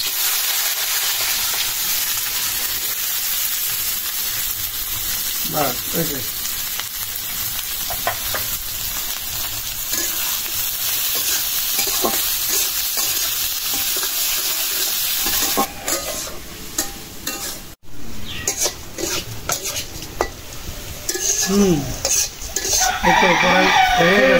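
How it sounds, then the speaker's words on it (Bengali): Fresh onions sizzle steadily in a pan at home, a loud continuous frying hiss with brief stirring scrapes and a distant rooster crowing now and then; no speech. "একটু লাল করে ভাজলে ভালো, নতুন পেঁয়াজ তো এজন্য মনে করো একটু সময় লাগছে"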